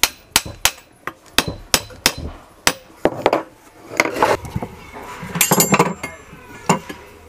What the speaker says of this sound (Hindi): हमें इसको जो हल्का हल्का पीट लेना है।